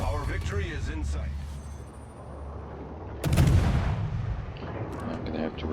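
Heavy naval guns from a Gearing-class destroyer in a naval battle game boom in a loud, broad blast partway through, over continuous engine rumble with someone talking throughout.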